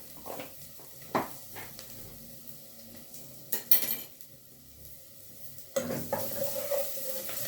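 Soft sizzling of garlic with dried coriander frying in a pan, with a spoon scraping and clinking against the pot in short bursts; no voices.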